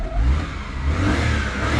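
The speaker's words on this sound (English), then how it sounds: "I'll give it a couple revs." A Daihatsu Mira's small engine is revved close by, a short rising and falling drone with two brief swells and no talk.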